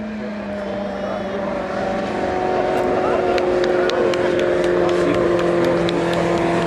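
Motorcycles from the 1000cc class race past on a closed track in Slavonia, a sustained engine drone with shifting pitch that swells louder midway and holds steady, under faint crowd and voice murmur.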